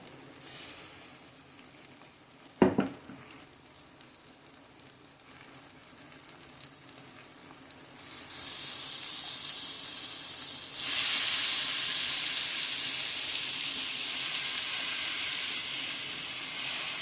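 A quiet kitchen, a sharp clank, then loud sizzling as 1 kg of chicken hits a hot pan, growing stronger and hissing steadily.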